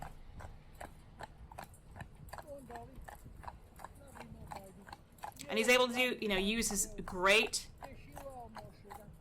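Steady, evenly spaced horse hoof clip-clops sound faintly in the background, mostly under someone talking throughout.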